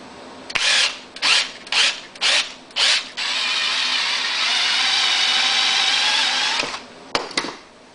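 A power drill bores a hole while a remote electric start kit is fitted to a Honda EU2000iS generator. Several short whirring bursts lead into a long sustained run, then two brief final pulses, loud and close.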